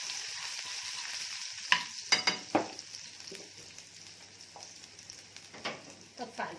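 Garlic fries in oil in a pan with a steady, bright sizzle, broken by a few sharp crackles and stirring scrapes, close and fairly quiet.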